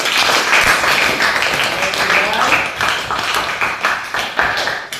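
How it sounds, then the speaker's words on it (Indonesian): Students and teacher clapping their hands together in a Christian classroom lesson, a dense, steady burst of clapping lasting several seconds, fairly loud and close, with a few sharper individual claps standing out. "Tepuk tangan untuk kita semua."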